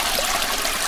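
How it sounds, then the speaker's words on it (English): River water flowing and rushing in a continuous, steady wash, close and fairly loud, with no other sounds over it. "the water started flowing again"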